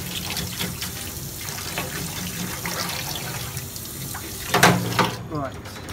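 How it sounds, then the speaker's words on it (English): Tap water runs steadily into a kitchen sink while a seabass is scaled, a continuous splashing hiss throughout with a brief louder splash near the end. "Always good to do this in a sink with running water."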